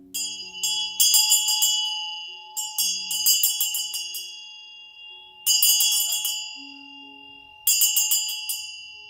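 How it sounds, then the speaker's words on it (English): A small bell rings in four bright, shimmering bursts spaced a couple of seconds apart. Each ring sustains and fades, with faint low tones underneath. "That bell was ringing a little bit funky there."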